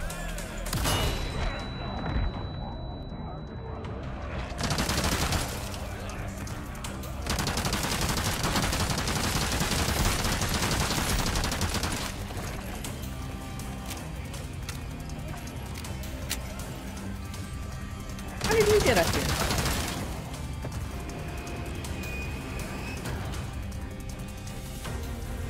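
Gunfire during a Resident Evil 4 Mercenaries DLC round, a steady run of shots and impacts spread across the clip with a loud burst late on, no talk heard.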